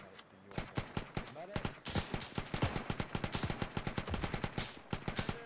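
Dense bursts of rapid gunfire from an ArmA 3 World War II military simulation battle crackle almost without pause, single shots mixed with automatic fire, while voices talk over the shooting.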